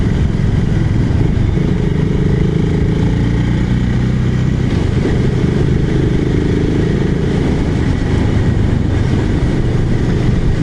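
A BSA motorcycle engine, Bantam or Gold Star 650, runs steadily and loud throughout, a continuous low rumble with a slight swell near the middle and no talking.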